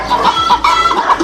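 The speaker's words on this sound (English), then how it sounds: "I had to chase that chicken all over town." Chicken clucking in a cooking game: a run of close, busy clucks and squawks in uneven bursts across the whole moment, with no talk over it.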